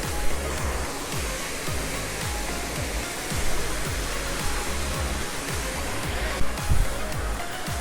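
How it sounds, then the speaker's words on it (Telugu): Water pours down a waterfall near Vijayawada in a steady, full roar of broadband rushing, loud and continuous throughout with small surges, no voices standing out. "కిందకి వెళ్తే ఇంకొక వాటర్ ఫాల్స్ ఉంది అక్కడ. ఐ మీన్ ఇదే వాటర్ కిందకి ఫ్లో అవి మళ్ళీ అలా ఫ్లో అవుతూ వెళ్తుంది"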